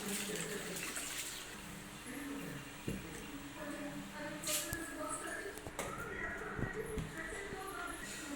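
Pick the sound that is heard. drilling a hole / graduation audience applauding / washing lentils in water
washing lentils in water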